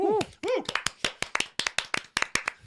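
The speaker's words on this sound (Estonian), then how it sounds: "Teeme aplausi." Sharp, close hand claps in a quick, fairly even rhythm, a dozen or so in a row, with brief talk at the start during a beach volleyball podcast.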